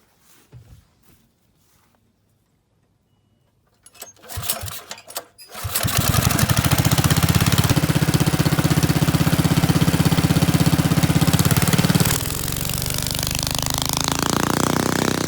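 Small engine on a snowmobile-based go-kart sputtering, then catching and running loud and steady at high revs before easing into a lower idle, close by, preceded by a few clanks.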